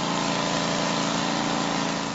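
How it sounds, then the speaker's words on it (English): The engine of a bandsaw mill used for cutting reclaimed beams runs at a constant, droning pitch, steady and moderately loud with no pauses. "This is our bandsaw mill."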